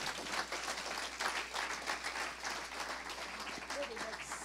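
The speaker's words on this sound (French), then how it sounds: "Clap for the Lord." A church congregation claps in praise during a bilingual French-English sermon, dense steady applause filling the room with voices mixed in.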